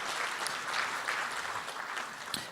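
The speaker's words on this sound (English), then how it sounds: "Let's have a round of applause for each one of them." Audience applause breaks out for the sponsors at a Zabbix Summit conference, a steady, dense wash of many hands clapping together throughout, moderately loud with no voices over it.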